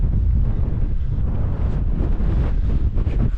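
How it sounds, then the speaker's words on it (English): Strong, blustery wind buffeting a wild camp by a mountain tarn in the Lake District at dawn, a loud continuous low roar rumbling against the microphone with no pauses. "wind got up through the night, so it's been a bit blustery"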